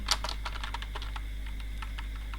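Quick, light keystrokes on a computer keyboard, a rapid irregular patter of close clicks over a low steady hum, with no talking.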